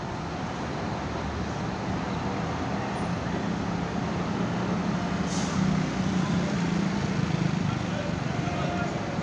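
Buses manoeuvre at the Purabaya Bungurasih bus terminal amid a steady rumble of engines and road traffic, with a brief hiss of air near the middle and faint voices in the background.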